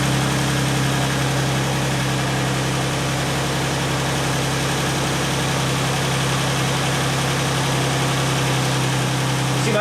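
A rebuilt Jeep engine idling steadily, a continuous low rumbling drone with even vibration and no breaks, running alone without talk.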